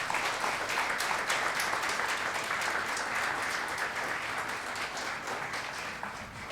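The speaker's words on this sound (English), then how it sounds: "So, huge round of applause." An audience at a corporate HR conference applauds, a steady, dense wash of clapping that holds for several seconds and eases slightly at the end.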